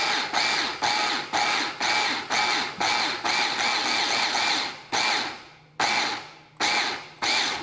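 A Cuisinart Smart Stick PowerTrio high-torque hand blender's chopper attachment runs its motor in about ten loud, close pulsed bursts, each starting abruptly and fading, with short gaps between the later pulses as tomatoes are chopped.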